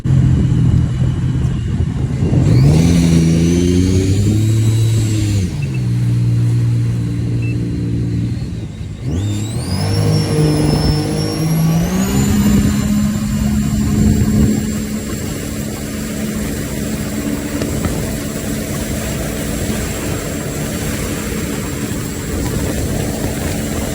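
A Sea-Doo RXP-X 300 jet ski fitted with carbon fiber ram air intake vents roars loudly at close range, its engine pitch climbing in two strong acceleration runs before settling into a sustained high-speed whine.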